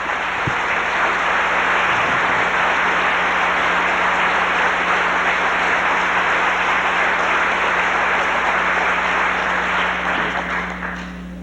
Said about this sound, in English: Let's give these two men a round of applause for their participation tonight.